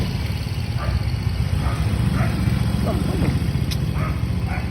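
An old motorcycle engine runs loudly and steadily throughout, a dense low rumble with no pauses, while someone talks intermittently over it.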